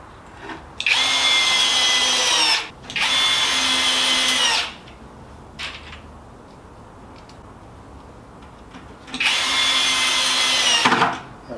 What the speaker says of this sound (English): Now they're all got 1 screw in them, I can just screw them all down now.